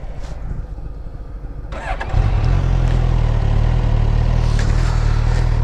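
A motorcycle rides through Monument Valley, Utah, near the Arizona border; its engine rumbles steadily, then grows louder and fuller about two seconds in and holds a strong, close drone to the end.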